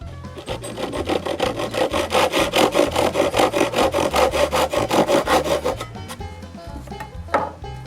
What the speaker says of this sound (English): I mark where they should be cut and cut them